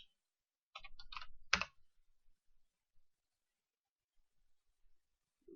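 Quick clicky keystrokes on a computer keyboard as a stock name is typed, a short burst of a few taps then a louder final press, close and clear in an otherwise quiet room.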